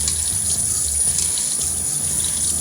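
Hot tap water runs steadily, close and unbroken, rinsing a greasy part from a home kitchen ventilation fan.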